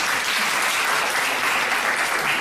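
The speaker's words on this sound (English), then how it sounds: "Give them a round of applause." A crowd at a spring music recital gives a full round of applause, thick and continuous clapping at a steady level for a couple of seconds.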